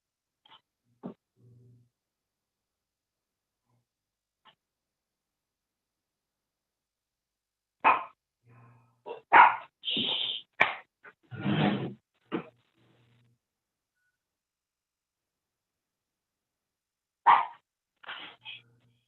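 A dog barks in several short, loud bursts close by, with a cluster of barks in the middle and another near the end, separated by quiet stretches.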